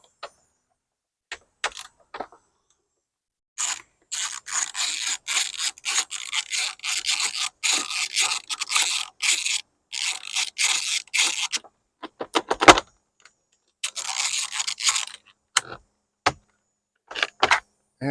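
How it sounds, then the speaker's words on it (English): A 10mm socket wrench ratchets a bolt loose while an overhead panel is removed, giving rapid metallic clicking bursts in several runs separated by pauses, with small handling clinks. "We're going to use a 10mm socket for this."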